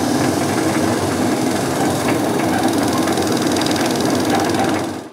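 A wood lathe spins a small wooden potpourri box being polished with paste wax, producing a steady loud whirring rumble with a faint rhythmic rubbing texture throughout, without speech.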